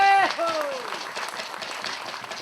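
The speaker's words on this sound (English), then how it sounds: "Please give yourself a round of applause, ladies and gentlemen." An audience at a North Rupununi indigenous heritage celebration breaks into brief applause just as a voice finishes speaking, the clapping carrying on moderately loud for a couple of seconds.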